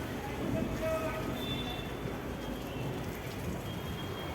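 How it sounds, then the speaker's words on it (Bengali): Wind and rain outdoors make a steady broadband rush with a soft hiss of falling drops, fairly faint, as a voice talks over it. "হাওয়া দিচ্ছে, ঝড় হচ্ছে, আর বৃষ্টিও হচ্ছে, এক ফোঁটা বৃষ্টি পড়ছে"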